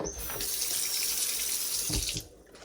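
Water gushes strongly from a faucet into a double-basin kitchen sink, a loud steady splashing rush that cuts off abruptly near the end.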